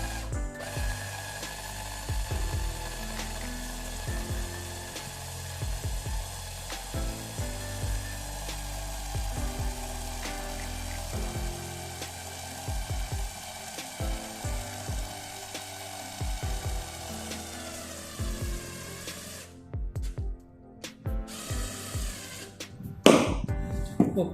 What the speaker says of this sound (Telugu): చూడండి, యూపీవీసీ ప్రోడక్ట్ కూడా మనకి స్క్రూ అనేది ఫిక్స్ అయిపోయింది